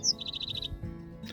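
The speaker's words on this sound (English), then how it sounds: "I'm going to pause every single time that bird sings." A songbird outdoors beside a hiking trail gives a sharp high note and then a rapid run of repeated bright chirps, close and clear against a quiet background.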